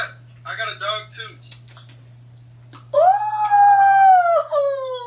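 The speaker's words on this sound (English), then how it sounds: "I got a dog too." A person talks briefly, then after a pause a dog lets out a loud, sustained howl with a rising then gently falling pitch that holds for about two seconds, accompanied by a low steady hum.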